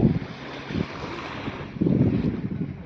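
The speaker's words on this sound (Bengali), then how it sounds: "ঢেউয়ের শব্দ সব কিছু ধীরে ধীরে ভেসে আসছে" Sea waves roll in with wind blowing across the microphone, a continuous low rushing roar that swells at the start and again toward the end.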